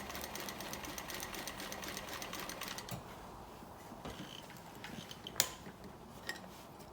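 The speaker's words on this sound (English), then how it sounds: "let the machine and the needle just run right off the cloth, gradually" Sewing machine stitching a dart in cloth, running fast and steady for about three seconds, then slowing into sparser stitches and ticks with one sharp click near the end, fairly quiet and close.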